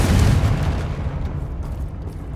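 A Confringo blasting spell from Hogwarts Legacy goes off as one loud, deep boom that bursts at the start, then rolls off into a rumbling tail.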